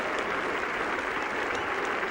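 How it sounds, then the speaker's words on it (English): Home crowd at a Yorkshire cricket match applauding and cheering as a batsman brings up his 200, a dense, steady wash of clapping filling the whole moment. "to a great cheer from this Yorkshire crowd"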